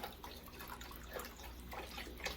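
Store-bought beef broth is poured into a pot of cream of mushroom soup, giving a faint, steady liquid trickle and splash close by with no talking.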